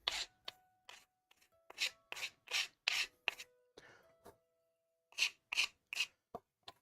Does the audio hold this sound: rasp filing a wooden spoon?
yes